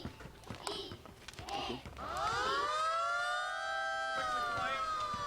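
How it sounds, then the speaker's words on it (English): A two-tone public warning siren for a toxic gas release at Grangemouth winds up after a couple of seconds of quiet voices, then holds a loud, steady wailing tone that dips slightly before carrying on. "This two-tone alarm sounds continuously for 5 minutes and is silent for 1 minute before continuing the cycle."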